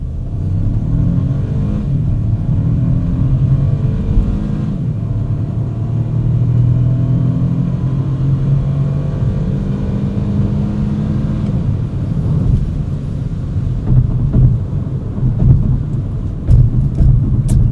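A 2025 BMW 218 Gran Coupe engine pulls hard under acceleration, a loud steady low drone whose pitch climbs gradually through the revs, heard close from inside the car with no talking.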